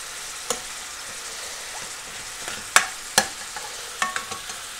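Pork belly stir-fries in oil in a pan with a soft continuous sizzle, broken by a handful of sharp utensil scrapes and clicks spread through the quiet background.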